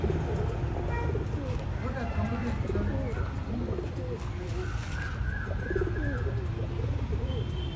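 Several pigeons coo repeatedly in soft, overlapping throaty calls close by, over a dense low rumbling background with a few brief chirps mixed in.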